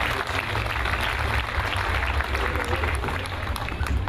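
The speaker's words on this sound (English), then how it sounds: "big round of applause, ladies and gentlemen." Audience clapping at the Vodafone Rakiraki Festival in Fiji, a dense, steady wash of applause from a large crowd, loud and sustained with no pauses.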